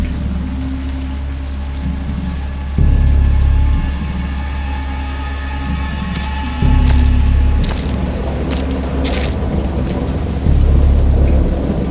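Heavy rain pours steadily in the Dagon video game while deep thunder rolls in repeatedly, low booms swelling every few seconds, with sharp crackling strikes breaking through near the middle.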